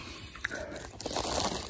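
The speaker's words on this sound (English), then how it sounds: "I'm gonna be munching on some peanuts as I tell this story." Crunchy peanuts cooked with real garlic munched close to the ear, a few crisp bites followed by quieter chewing and crackling, with no talking.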